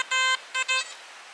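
A pinpointer used while metal detecting for coins at a little-known swimming spot gives three clear, close electronic beeps: one longer tone, then two short ones in quick succession.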